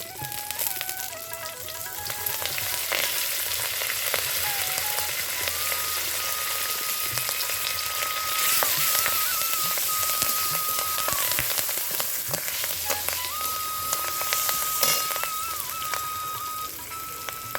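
Curry leaves and asafoetida sizzle steadily in hot oil for sambar, a loud continuous crackling fry with a few sharper pops, close up and without talk.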